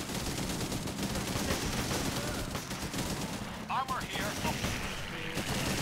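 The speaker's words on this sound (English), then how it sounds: "Our soldiers are under fire." Battlefield gunfire from the Blitzkrieg 3 Battle of Crete mission, a continuous crackle of rifle and machine-gun shots with distant booms, dense and mid-distance, with a voice speaking over it.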